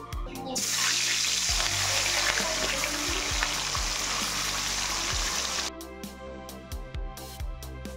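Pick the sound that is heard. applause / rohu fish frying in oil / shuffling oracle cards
rohu fish frying in oil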